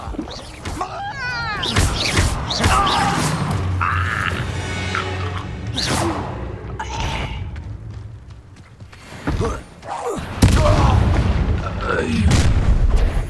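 An Incendio fire spell is cast in Hogwarts Legacy, bursting with booming, crackling impacts over a dense mix of game combat effects, with voices talking throughout.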